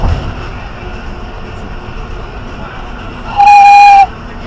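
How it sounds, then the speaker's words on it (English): A wooden train whistle is blown once near the end, a brief, loud, steady hooting tone of under a second that rises clearly over a quiet indoor background. "He has an actual wooden train whistle,"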